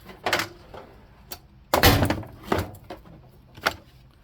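Metal socket drivers set down one after another into a tool chest drawer beside torque wrenches, giving a few separate knocking clunks, the loudest near the middle, close and with no talking.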